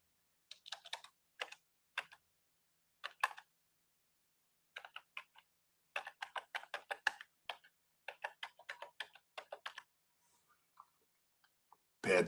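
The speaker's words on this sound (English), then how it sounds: "Hold on, I gotta correct my bad spelling." Bursts of quick keyboard typing, clicks in short runs separated by pauses, close and fairly quiet, with no one talking.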